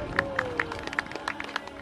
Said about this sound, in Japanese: 会場からは拍手が沸き起こっております